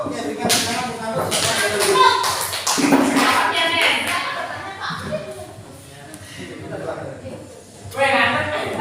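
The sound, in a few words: audience applause for a group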